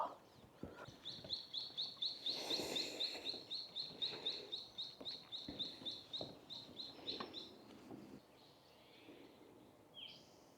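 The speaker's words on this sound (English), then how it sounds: "Can you hear all the birds?" Birds chirping and singing outdoors, with one repeated rapid high-pitched trill carrying through a busy chorus of calls, fairly close.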